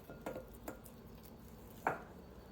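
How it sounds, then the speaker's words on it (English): Sourdough dough in a bowl is folded and the bowl turned, giving a few soft, faint scrapes and thuds against a quiet background, the last one slightly louder. "then I turn the bowl 1/3 of the way around"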